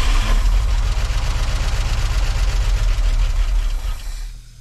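A long-dormant International Loadstar truck engine, unused for over twenty years, fires and runs with a loud, steady, rough mechanical clatter throughout, tapering off near the end.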